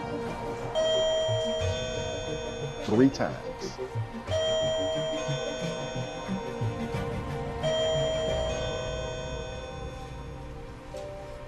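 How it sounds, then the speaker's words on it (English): A doorbell chimes several times, its tones ringing out repeatedly while people talk over it. "And then I rang the doorbell"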